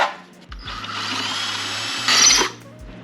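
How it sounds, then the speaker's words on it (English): A power drill drilling out a screw on a 1995 Honda Civic, close and loud: a steady whirring run that surges briefly as the bit bites, with short motor starts and stops. "Keep drilling a little more."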